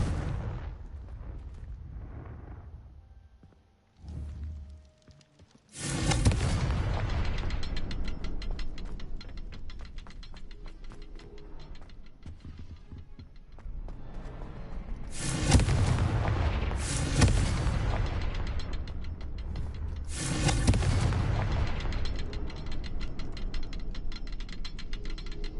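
Booming fiery blasts of the Confringo spell in Hogwarts Legacy, several loud explosions with rumbling, crackling tails, including a sharp hit early on and repeated heavy bursts later.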